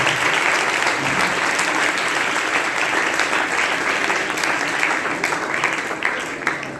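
A church congregation at a Christmas service claps in full, sustained applause from a large crowd, loud and even for several seconds before it starts to ease off at the end.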